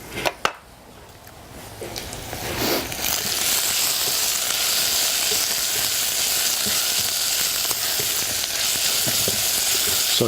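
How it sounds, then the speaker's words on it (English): Onions braising in a pan give off a loud, steady hiss and sizzle after a couple of sharp knocks at the start, close and unbroken with no talk. "So here I'm actually braising the onions, and what I want to see is for the onions to become translucent"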